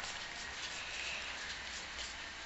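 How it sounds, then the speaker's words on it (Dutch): Rain falls outside on a day when the sun is also shining, a soft, even hiss with faint patter that holds steady throughout, distant and quiet, with no voices. "Volgens mij regent het buiten, als ik het zo goed zie."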